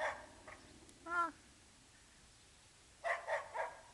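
A dog barks from a backyard across the way, a few separate woofs, moderately distant and fairly faint, with quiet gaps between them.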